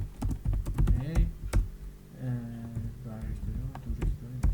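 Keys on a computer keyboard clatter in quick irregular bursts while someone writes PHP code, the tapping close and steady under someone talking throughout.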